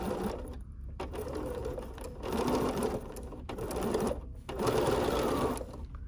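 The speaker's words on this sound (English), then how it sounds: "as we sew through this on the machine" A sewing machine stitches through a four-patch quilt block, running in steady mechanical bursts with brief pauses between them, close and fairly loud.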